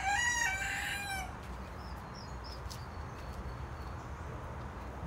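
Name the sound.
rooster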